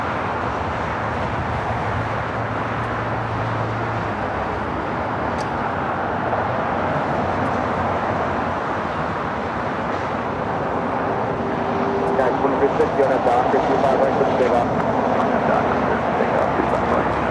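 An airliner takes off from the south side of LAX, heard as a broad, continuous jet roar that swells slightly toward the end, with faint talk in the background.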